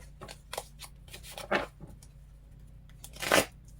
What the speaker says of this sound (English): I feel like I need to shuffle.